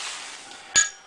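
A single sharp hammer blow rings out on a hot nail head being forged in a nail header by a blacksmith, a bright metallic strike with a short ringing decay that stands alone over faint background hiss.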